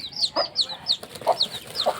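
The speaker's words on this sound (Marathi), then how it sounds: "ही कोंबडी मी गणेश कोलिवाड सर यांच्याकडून घेतली होती" A hen clucks repeatedly in a steady, chattering rhythm, close and clear, with soft higher chirps between the clucks.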